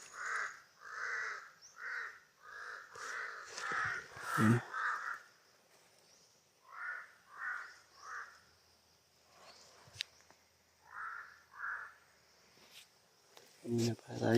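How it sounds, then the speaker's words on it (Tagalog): Crows caw repeatedly in short bursts of two to four calls, fairly close outdoors, with a brief spoken word and some rustling between calls. "Kanina pa tayo sinusundan ng mga uwak na yan."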